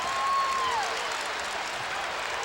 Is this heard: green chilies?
no